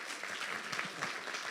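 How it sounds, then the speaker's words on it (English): Steady, dense audience applause for a speaker at a board of directors institute event, continuous and moderately distant with no talk over it. "Let's give her a round of applause."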